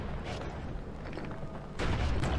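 Weapon fire in the video game Bastion: dense, booming bursts of shots fill the whole stretch and grow louder and heavier near the end.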